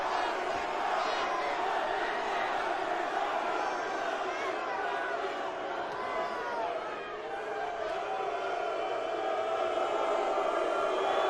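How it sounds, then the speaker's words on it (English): A large arena crowd at a WrestleMania XL kickoff press conference in Las Vegas roars and boos continuously, a dense, loud wall of voices with shouting mixed through it. "They're booing."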